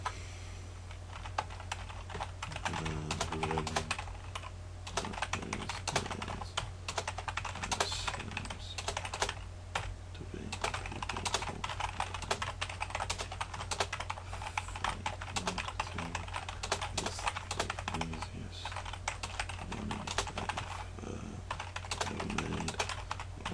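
Continuous typing on a computer keyboard while writing a blog post, with steady rapid key clatter in irregular bursts and brief pauses, close and fairly quiet over a low hum, with no talking.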